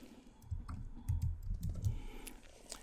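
Computer keyboard shortcut keys pressed for copy and paste, a quick cluster of close, soft key clicks and taps, faint and irregular, with no talking over them.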